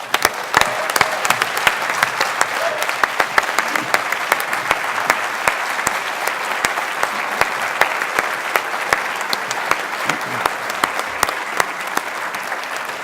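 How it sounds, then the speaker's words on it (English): A large conference audience applauds a speaker with sustained, even clapping for over ten seconds, many hands blending into a continuous crackle with sharper individual claps standing out. "can you please all stand up and give a big hand of applause for Lonneke Walk?"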